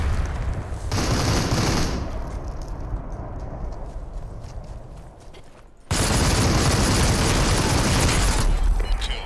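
Rapid bursts of AK rifle fire in the game Super People, loud and near, with a dense rattling stretch at the start, a thinner middle and another heavy barrage after a sudden jump in level.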